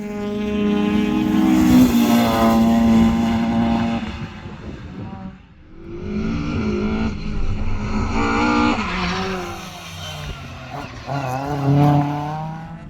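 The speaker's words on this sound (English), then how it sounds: "Another man on a Sunday morning mission is Collie Feeney in his Mazda MX-5" Mazda MX-5 race car at Nutts Corner Circuit during a rallysport winter series event, its engine revving loudly and steadily through gear changes for about thirteen seconds with a brief dip partway, no talk over it.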